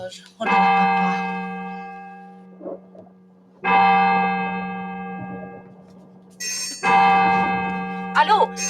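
A clock bell rings in three separate sustained peals, each with a sharp strike and a long, slowly fading ring, separated by quieter gaps with brief voices talking.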